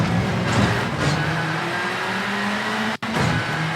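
A rally car engine in V-Rally 4 howls at full throttle, loud and close, holding a high, steady drone with a faint rise in pitch and a brief cut near the end.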